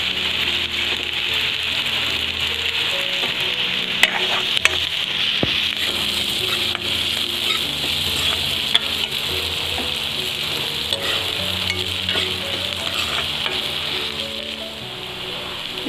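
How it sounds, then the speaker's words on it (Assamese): Dried fish sizzles steadily in a hot pan with oil and red chilli, a dense continuous frying crackle with occasional stirring scrapes, close and loud throughout with no voices. "এতিয়া মই দি দিছোঁ শুকতি মাছখিনি"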